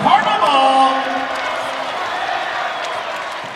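Arena crowd at a Louisville Cardinals basketball win over Syracuse roars loudly, strongest in the first second, then settles into a sustained wash of cheering, with whistles and shouts poking through.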